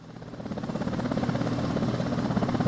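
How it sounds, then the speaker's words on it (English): An incredibly old helicopter flying in the video game Workers & Resources: Soviet Republic, a steady rotor thump with a droning engine hum that grows slightly louder and keeps a rapid pulsing beat. "then they get us on an incredibly old helicopter too"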